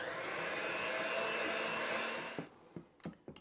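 Electric mixer whirring steadily while mixing lemon and squash poppy seed bread batter, a loud continuous motor drone that cuts off near the end, followed by a few knocks and clatters.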